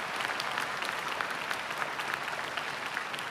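Families and guests at a Florida Highway Patrol graduation ceremony applaud the class leaders and award winners, a steady, fairly distant spread of many hands clapping with no one speaking.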